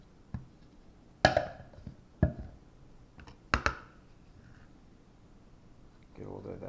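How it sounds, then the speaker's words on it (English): A knife chops through an orange on a cutting board with a few sharp, separate cuts spaced over several seconds, close and fairly quiet, followed by soft handling noise. "I'm going to go ahead and cut my orange in half."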